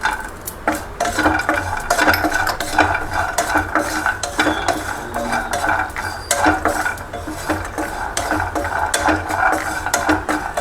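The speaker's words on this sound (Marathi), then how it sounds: "त्याच्यातच आपण काजू पण टाकू, बदाम भाजत आल्या त्याच्यातच टाकू" Almonds, cashews and pistachios dry-roasting in a hot kadhai while a utensil steadily stirs and scrapes them, giving a continuous close rattle and clatter of nuts against metal.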